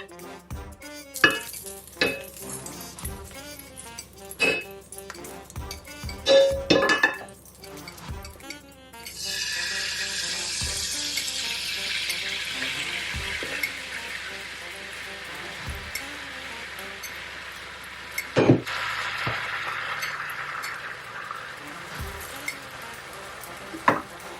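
An egg fries in coconut oil in a pan, with a steady close sizzle swelling after some clinks and stirring taps, and occasional utensil knocks continuing over the frying.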